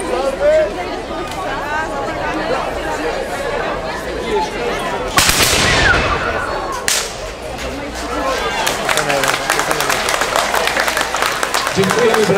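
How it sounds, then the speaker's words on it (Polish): At a museum night opening ceremony, amid a murmuring crowd, one loud ceremonial gunshot blasts out, followed shortly by a softer second crack, then scattered clapping and chatter continue. "Okazuje się, że jeszcze jeden strzał zaszczyci nas."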